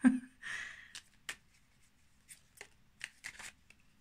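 Cards from a very small deck are shuffled and handled up close, a loud riffle at the start followed by scattered short flicks and taps with quiet gaps between them.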